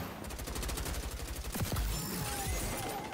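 Rapid automatic gunfire in the video game XDefiant during a close hipfire kill, a dense burst of loud shots in quick rhythm, heard alone without talk.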